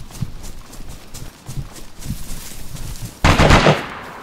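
Gunfire in the video game DayZ from a damaged gun: scattered, muffled shots under a low background, then a loud, close burst near the end.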